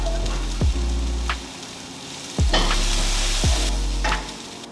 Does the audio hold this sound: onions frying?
yes